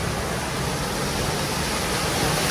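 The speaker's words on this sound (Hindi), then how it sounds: "अच्छा यहाँ पे है प्रपात जिसको आप कहते हैं झरना" Waterfall in a botanic garden in Auburn, Sydney, a loud, continuous broadband rush of falling water that stays even throughout with no talk.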